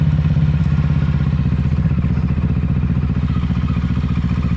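A 2020 Kawasaki Ninja 650 runs close by with the throttle rolled off, its engine holding a loud, steady, low pulsing drone the whole time.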